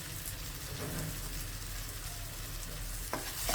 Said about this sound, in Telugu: మళ్ళీ ఒకసారి కలిపేసేసుకోవాలి.